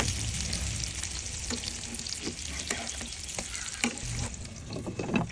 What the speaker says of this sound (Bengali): আর এটাকে এপিট উপিট করে ভালো মতো ভেজে নিব